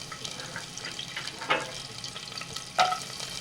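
Almonds fry in ghee in a pan beside cashews for homemade cake, giving a soft steady sizzle with two louder bursts of scraping and crackling near the middle and end.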